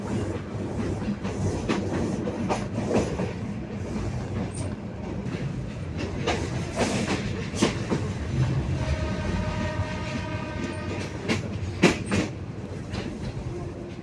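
A passenger train runs at dawn, heard from inside the carriage as a steady rumble with rhythmic clickety-clack of the wheels, scattered metallic clanks and a brief squealing tone, with no one talking.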